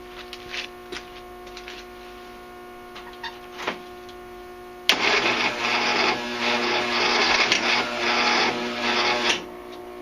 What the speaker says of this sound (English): we're going to see whether it even actually attempts to kick over